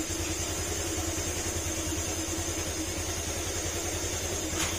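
A steady, droning motorcycle engine idles close by with a constant low rumble and a faint high whine from a noisy, worn CVT, unbroken for the whole stretch.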